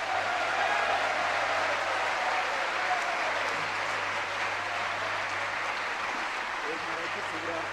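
Sustained audience applause at a Jain religious discourse gathering in Agra, a broad steady wash of clapping filling the whole stretch, with a low constant hum beneath and a faint tonal trace early on.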